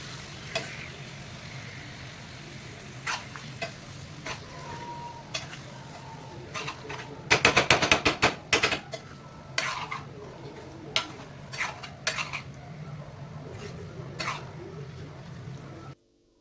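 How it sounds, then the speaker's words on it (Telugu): Chicken livers sizzle steadily in a frying pan while a utensil stirs them, with scattered scrapes and clinks against the pan and a denser burst of stirring midway. "బాగా తిప్పుకోవాలి."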